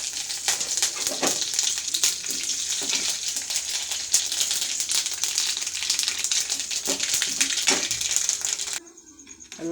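Mustard seeds, dried chillies and curry leaves temper in hot oil for a ridge gourd peel thuvaiyal, giving a steady crackling sizzle dotted with sharp pops that runs close and continuous before cutting off near the end.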